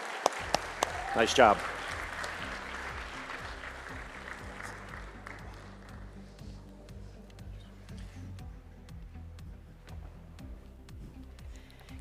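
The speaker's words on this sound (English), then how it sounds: "Please join me in applauding the panel's work here." A conference audience at a summit main stage applauds a panel, a burst of clapping opening the clip and settling into a steady, moderate wash beneath a short spoken remark and a low background music bed.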